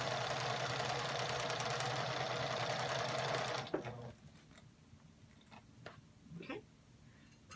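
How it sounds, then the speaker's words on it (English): A sewing machine stitches quilt pieces together, running in a loud, steady, fast whir for about half the time before stopping. Quieter handling taps and rustles follow. "And now we're gonna sew it together."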